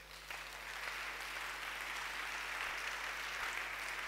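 A church congregation applauding during a Sunday worship service, steady dense clapping that fills the whole stretch without a break, moderately loud with a faint hum beneath.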